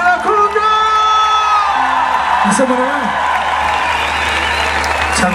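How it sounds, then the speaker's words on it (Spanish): A festival crowd at Fiesta Nacional del Mate in San José de Mayo, Uruguay, claps and cheers after a cumbia set, with whoops and shouts rising over continuous applause while an amplified voice speaks. "¡Enorme los gritos y los aplausos para la cumbia!"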